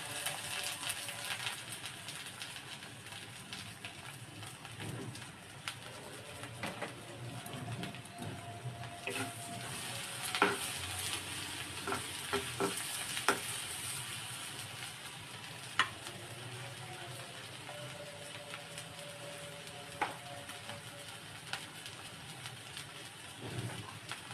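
Chopped garlic and onion fry in hot oil in a pan, a steady broad sizzle running throughout at moderate level with scattered clicks and light scraping of a utensil, no voices.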